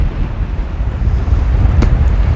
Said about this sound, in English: As you can tell, the wind is blowing quite a lot.